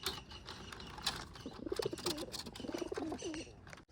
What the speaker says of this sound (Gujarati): તો બંને કબૂતર છે અંદર